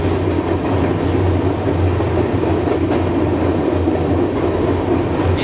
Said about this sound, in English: Look at how chunky this train is